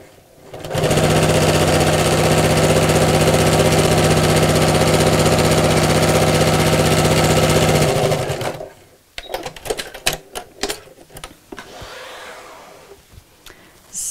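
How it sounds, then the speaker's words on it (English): A sewing machine runs in one long steady burst, stitching four quilt pieces together for a picnic blanket, its motor whirring loud and close for several seconds before stopping, followed by clicks and handling noises. "sew all these four pieces together"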